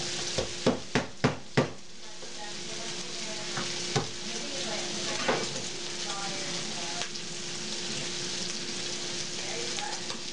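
Small bacon bits frying in a pan, a steady close sizzle with a few sharp clacks of a utensil at the start and occasional stirring knocks later.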